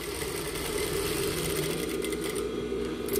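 An industrial straight-stitch sewing machine with a standard presser foot runs a holding stitch along a fabric edge, a steady close mechanical hum with a rapid fine rhythmic chatter lasting the full few seconds, no voices over it.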